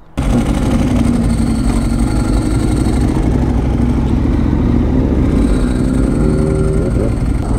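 A Ducati 1098 motorcycle idles close by with a constant, loud low rumble and a steady throbbing pulse, a slight rise in pitch near the end, and no voices.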